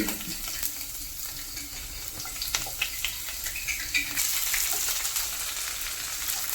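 Fennel seeds, garlic and ginger sizzle and crackle in hot coconut oil in a pan, a close, steady frying hiss with small pops and stirring scrapes throughout, no voices.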